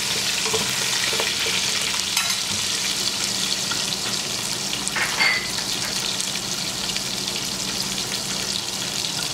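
Mutton and onions fry and sizzle steadily in a pot as cumin is added, a loud continuous crackling hiss with a few stirring scrapes, close up and without talk.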